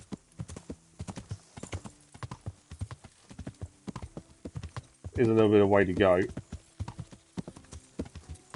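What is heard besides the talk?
horse hooves while riding in Kingdom Come: Deliverance video game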